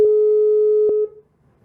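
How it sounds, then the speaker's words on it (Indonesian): A telephone busy signal during a phone-in call on a live TV news programme, a loud steady electronic tone with brief clicks that cuts off after about a second, followed by near silence. "Oke, kita telepon dulu ya."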